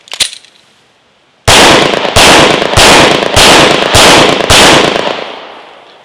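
Six loud, sharp pistol shots ring out on an outdoor qualification course, the first alone after a short pause, then five more in a fast, even string, each with a brief echoing tail.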